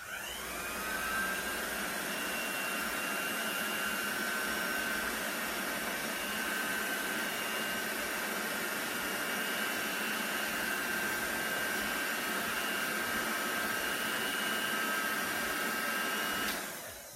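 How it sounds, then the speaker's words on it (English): A cool-setting hair dryer blows air in a continuous loud, steady whoosh with a high whine, running unbroken for over fifteen seconds before switching off. "And with a cool dryer, I'm just gonna dry this off real quick."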